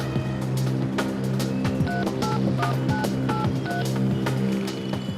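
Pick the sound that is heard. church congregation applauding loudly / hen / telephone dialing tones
telephone dialing tones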